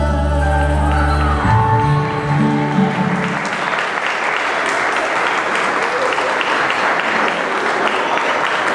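Applause breaks out for a father-daughter waltz at a family celebration, a dense, steady clapping crowd that rises as the music ends and carries on loudly to the end.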